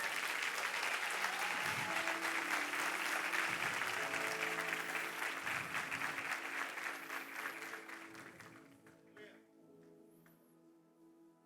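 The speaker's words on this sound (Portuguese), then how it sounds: "Aplauda o nome do Senhor Jesus essa noite." A church congregation at an evening service applauds loudly and continuously while music and voices play underneath, the clapping thinning and fading out over the last few seconds.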